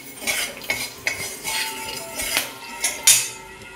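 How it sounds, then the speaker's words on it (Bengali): Cloves, cinnamon and cardamom go into hot oil for a curry and are stirred in a metal pan. A utensil clinks and scrapes against the pan in a series of close, uneven knocks, with only a faint sizzle beneath. "মশলার জন্য যে লবঙ্গ, দারচিনি আর এলাচ দিয়ে দিচ্ছি তেলে"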